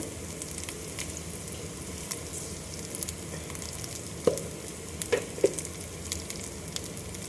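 Mustard seeds in hot coconut oil for a Kerala inji puli curry, giving a low, even crackle with a few sharp isolated pops, fairly quiet and close with no talking.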